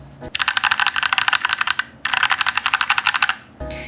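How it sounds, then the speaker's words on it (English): Rapid, clacky keystrokes from a stiff, plastic-bodied budget mechanical keyboard in two steady bursts, close and crisp, with a brief pause between runs. "a very stiff typing experience and a very plastic construction"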